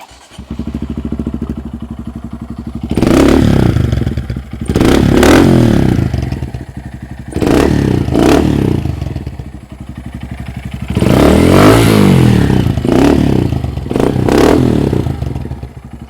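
Honda Grom motorcycle with a Yoshimura Race Series exhaust starting up and revving, several loud close blips rising and falling over a rough idle, no voices.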